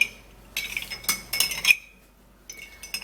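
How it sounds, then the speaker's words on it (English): A spoon stirs an apple cider vinegar drink, giving several quick clinks and scrapes against the container in short bursts with quiet gaps, close and fairly faint. "and then you're going to give it a stir"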